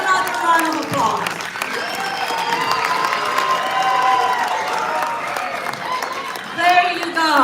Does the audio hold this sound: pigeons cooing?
no